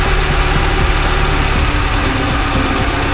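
A car's petrol engine idles steadily while the distributor is loosened and turned to adjust timing, a loud, even, close mechanical hum with a faint regular pulse and no talk over it.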